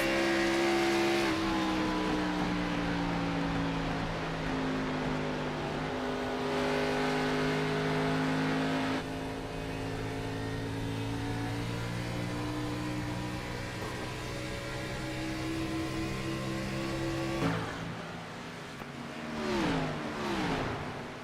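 Race car engines roar loudly in a sim racing league event at Homestead, steady droning tones shifting pitch as several cars run close together, with a sharp rise near the end.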